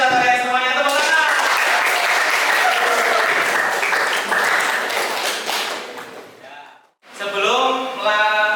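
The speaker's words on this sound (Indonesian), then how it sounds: "tepuk tangan." A class of students in a micro-teaching religious education lesson claps together in a loud, sustained round of applause that fades out, followed by voices speaking.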